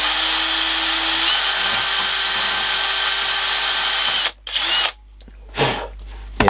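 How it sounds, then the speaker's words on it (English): Power drill boring into a part of a 1970s Realistic Modulette 939 cassette player during repair, a steady close whine for about four seconds, then stopping and restarting in short bursts. "I guess, because I've got to drill."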